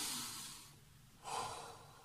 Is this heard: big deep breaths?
yes